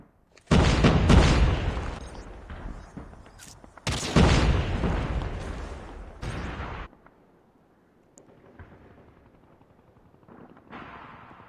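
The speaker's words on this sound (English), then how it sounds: "Grenade out! Frag out!" Frag grenade explosions in Call of Duty Mobile during an SEA Marshals Cup esports match: two loud, close blasts with rumbling tails, the second about three seconds after the first, then quieter game noise.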